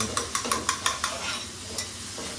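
Eight eggs for egg bhurji sizzle in a pan while a spatula stirs them, striking the pan in quick regular taps over a constant frying hiss, close and fairly loud.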